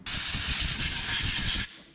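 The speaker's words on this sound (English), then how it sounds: "Compressed air helped more than anything. Just blow that crap out of there." Compressed air blasting debris out of a 1976 GMC engine bay, one continuous loud hiss lasting nearly two seconds and then cutting off abruptly, close by with no talking.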